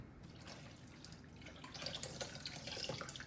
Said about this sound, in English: We're gonna throw some more water in there just so it can steam more